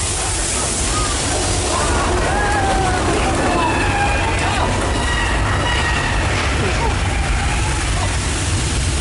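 Loud, continuous rumble and rattle of a tram moving on a studio backlot tour, with wheel screeches and clatter throughout and people talking underneath.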